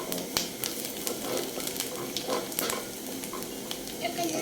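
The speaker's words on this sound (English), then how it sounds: "Yes, so the oil is sizzling." Hot oil sizzles in a pan while omena sardines fry, a close, continuous crackling hiss dotted with quick spitting pops, with no voices.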